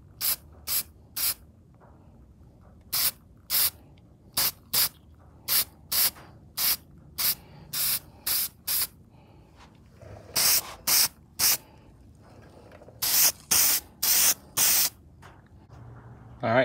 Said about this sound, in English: I'm gonna go ahead and hit up the whole thing now with the bolts and everything with the same appliance epoxy